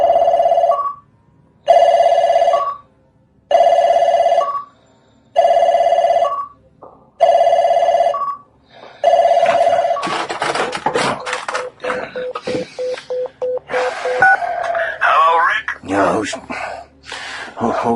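A telephone rings in five loud, evenly spaced bursts, then cuts off as voices and other noises take over.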